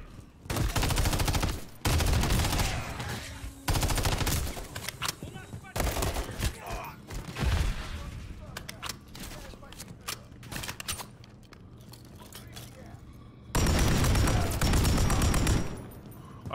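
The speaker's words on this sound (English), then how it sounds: "I love this freaking LMG." Bursts of light machine gun fire in a Call of Duty Modern Warfare 3 campaign mission, loud sustained volleys separated by short pauses, with a final long burst near the end.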